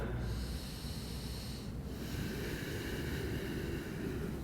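Slow, deep breathing during a hip-opening yoga stretch, a continuous close airy rush that shifts in tone partway through as the breath turns from inhale to exhale, with no talking.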